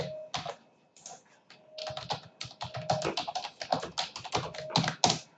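Bursts of computer keyboard typing, close and fairly quiet, with quick irregular key taps that pause briefly and then run in denser clusters.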